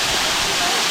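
The Namma Aruvi waterfall at Seekuparai viewpoint in the Kolli Hills gives off a steady, close, loud roar of rushing, splashing water that holds unbroken for about a second.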